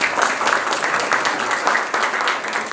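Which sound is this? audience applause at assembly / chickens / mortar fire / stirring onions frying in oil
audience applause at assembly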